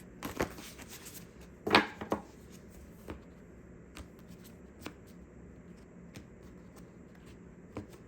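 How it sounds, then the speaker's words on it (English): A quick riffle of playing cards being shuffled, followed by scattered light taps and clicks of cards being handled, close and quiet. "I'm gonna just shuffle again."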